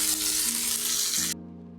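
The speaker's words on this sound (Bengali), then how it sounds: "এখন আমি যে কুচি করে রেখেছিলাম পেঁয়াজগুলি, সেগুলি দিয়ে দিলাম। দিয়ে আমি পেঁয়াজটাকে একদম লাল লাল করে ভেজে নিই।" Chopped onions fry in hot oil in a wok for an egg curry, giving a loud, close, steady sizzle that cuts off abruptly partway through, leaving only a low hum.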